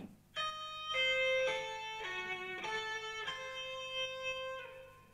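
A distorted electric guitar plays a metal lick, a string of sustained, bright notes changing in steady steps and ringing out clearly on their own.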